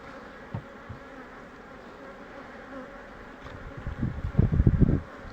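Thousands of honeybees hum steadily in an opened hive during a colony split, a dense close drone with louder buzzing bursts of passing bees near the end.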